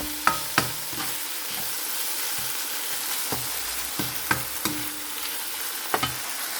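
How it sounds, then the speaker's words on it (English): Vegetables such as red peppers and carrots sauté for egg fried rice in a pan, giving a constant sizzling hiss punctuated by sharp, occasional clacks of a utensil against the pan. "You can add also some of your favorite vegetables like carrots. So saute this maybe for 1 minute."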